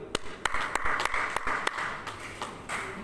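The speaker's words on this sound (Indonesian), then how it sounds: "Kita beri tepuk tangan dulu." An assembly session of the Bangka regency gives sparse, fairly quiet applause: a handful of distinct claps spread across a low room hum.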